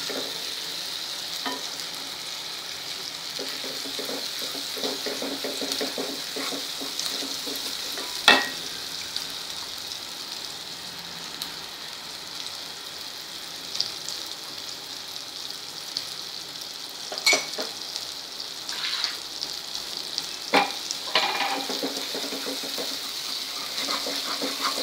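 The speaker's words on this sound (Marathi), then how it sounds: "हिरवी मिरची लसूण पण छान परतलं जाईल" Green chili and garlic sizzle steadily in hot oil in a pan while preparing a thin fenugreek-leaf curry, with a spoon stirring and scraping now and then over the constant hiss.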